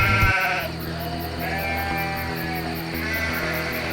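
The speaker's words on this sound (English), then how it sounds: "We met some friendly shepherds who were herding some 800 sheep and their dog with them." A large flock of roughly 800 sheep, herded by shepherds with a dog on a mountain pass route, bleats continuously in overlapping calls, loud and close, forming a dense steady chorus.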